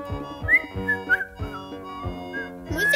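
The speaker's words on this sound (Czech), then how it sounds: "Musíš se u toho pořád pískat." A person whistles a bouncy tune of short and sliding notes over a rhythmic music backing, close and clear, without speech.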